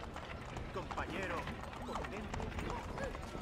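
A horse in Assassin's Creed III walks with a steady clip-clop of hooves, fairly faint and partly buried under voices talking over it.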